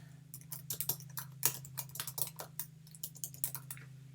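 Typing on a computer keyboard: a quick, uneven run of light key clicks, close and quiet, over a steady low electrical hum.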